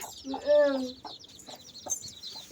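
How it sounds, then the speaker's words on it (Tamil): Chickens kept at home, including older hens, cluck in a short burst with a drawn-out call, followed by softer scattered clucks close by. "நீங்கள் இந்த மாதிரி கோழி வளர்த்தீங்கன்னா"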